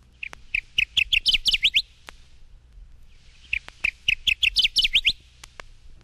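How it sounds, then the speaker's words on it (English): Kirtland's Warbler song, two loud, clear phrases of rapid, bright chirping notes that rise and quicken toward the end, separated by a short pause. "Kirtland's Warbler"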